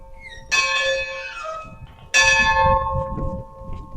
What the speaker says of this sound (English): One last bell ring together.